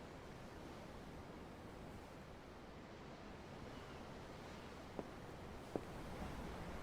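Open-sea waves in the Tales of Arise video game, a steady, soft wash of surf and wind with no voices, broken by two faint clicks near the end.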